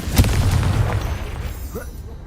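The Confringo explosive spell in Hogwarts Legacy goes off in a single sharp blast near the start, then a rumbling boom fades over about two seconds.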